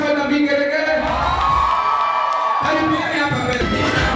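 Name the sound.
church crowd cheering and ululating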